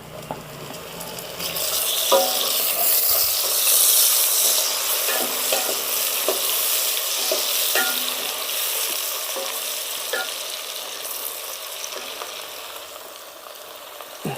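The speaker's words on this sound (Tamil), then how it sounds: "இப்போ வெங்காயம் நமக்கு கோல்டன் ப்ரௌனில் கிடச்சிருச்சு. கொஞ்சம் பொறுமையாக தான் வதக்கி விடணும்." Golden brown onions sautéing in a pan for chicken biryani, a steady close sizzle with repeated short scraping stirs throughout and no talking.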